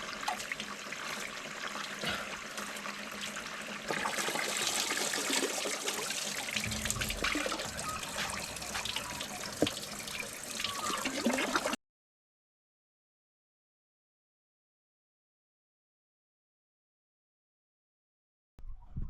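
Water trickles and burbles steadily in Bendigo Creek at St Just Point, close and continuous for about twelve seconds before cutting to silence, with a brief return at the very end.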